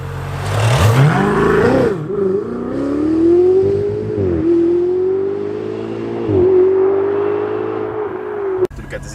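Twin-turbo V8 of a Ferrari 488 Spider revving hard and accelerating past up close, a loud rising and falling engine note with sharp shifts through the gears, ending in an abrupt cutoff.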